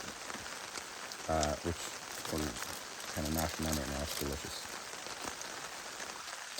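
Steady rain patters on a tarp over a campsite in the Boundary Waters wilderness, a continuous close hiss running beneath relaxed conversation throughout.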